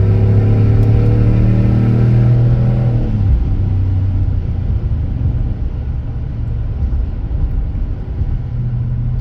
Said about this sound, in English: I'm going to open up the rear window, and I'm going to give it a little gas here.